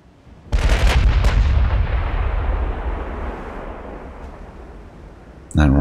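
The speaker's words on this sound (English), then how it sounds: "There's our ranging shot, which hit" A naval artillery ranging shot booms loudly in the Ultimate Admiral: Dreadnoughts warship video game, a heavy blast followed by a long rumbling decay, with another sharp report starting at the very end.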